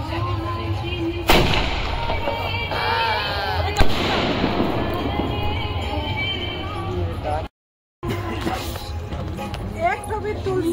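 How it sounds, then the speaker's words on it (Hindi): Firecrackers and fireworks shots set off at a home gathering, with two sharp bangs cutting through steady chatter from several people nearby. "तो हम लोग फटाका फोड़ने लगे। दीदी को हम दे दिए फायर शॉट फोड़ने के लिए"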